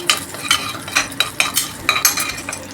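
Spices and sliced onion frying in a pressure cooker, stirred with a utensil that scrapes and clinks against the metal pot in regular strokes over a soft sizzle, close up, with no voices.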